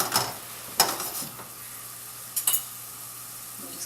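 Pork marsala sauce simmers in a pan with a soft, low hiss, broken by a few brief utensil clinks and clatters near the start and middle.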